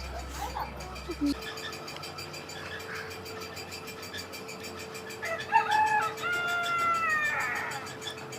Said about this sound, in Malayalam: ഈ കോഴിയാണോ ഗോൾഡൻ സിൽക്കി